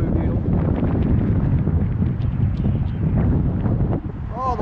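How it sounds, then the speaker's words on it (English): Strong, freezing wind gusting outdoors in New York City, roaring constantly and loudly across the microphone with a heavy low rumble and no letup. "Oh, the wind's blowing like crazy."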